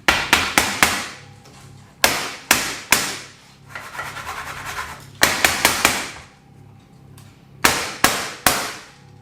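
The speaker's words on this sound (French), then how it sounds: "je vais un petit peu tapoter pour que ça se mette bien dans toutes les petits recoins" Silicone baking mould filled with petit écolier biscuit mixture, tapped on a kitchen counter to settle it: bursts of three or four sharp knocks repeat close and loud, separated by softer rubbing and brushing sounds, with no talking.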